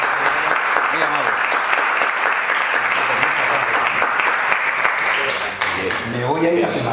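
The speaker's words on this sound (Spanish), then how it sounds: "le damos un fuerte aplauso" An audience at a lecture gives a strong round of applause while a medal is presented, dense clapping throughout with talk heard over it.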